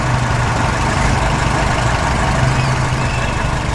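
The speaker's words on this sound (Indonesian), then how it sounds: "Traktor biru melintas di tengah tanah berbatu." A blue tractor engine runs steadily on a farm as it crosses rocky ground, a constant low diesel drone heard close and loud throughout with no breaks.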